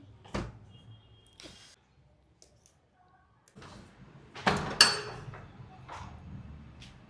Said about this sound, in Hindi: देखो दरवाज़ा खोलो